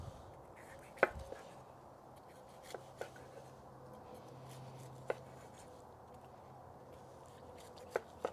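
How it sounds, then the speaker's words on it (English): Smoked turkey breast, cooked over Kingsford hickory pellets on a Rec Tec 700 pellet grill, is sliced with a knife on a board: a few faint, sharp taps spaced out over a quiet background. "All right, slice up this breast."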